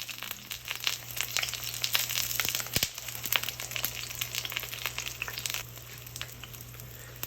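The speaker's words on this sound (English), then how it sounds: "Put the eggplants in facing down. And we're cooking both sides of eggplants about 2 to 3 minutes each." Eggplant pieces fry in oil in a pan at medium heat, giving a dense crackling sizzle with sharp pops that grows louder, then eases to a quieter hiss near the end.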